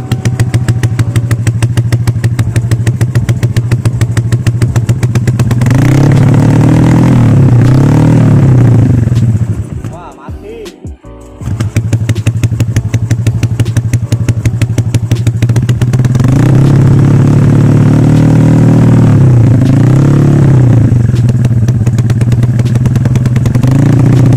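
A cold Honda Beat ESP 125 motorcycle engine idles roughly up close, revving in swells, cutting out briefly midway, then catching and revving again.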